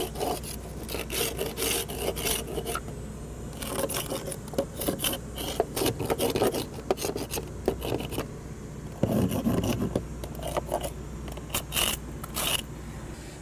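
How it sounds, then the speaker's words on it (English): A paint scraper rasps across a window frame, stripping peeling paint in repeated close, gritty strokes with short pauses between passes and no talking. "this paint is already pretty well peeling, so I'm just gonna give it a light scraping"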